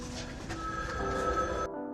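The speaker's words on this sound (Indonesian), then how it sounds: "Tiba-tiba, mereka mendengar telepon berdering." Old telephone ringing inside a catacomb, a sustained steady ring that stops abruptly near the end, heard alone at moderate loudness.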